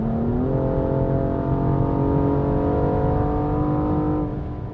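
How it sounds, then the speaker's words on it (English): A 2014 BMW M235i coupe's turbocharged inline-six pulls hard under acceleration, its tone rising steadily in pitch as revs climb, then easing off near the end, heard from inside the car with no talking. "The turbo inline-6 just sounds awesome."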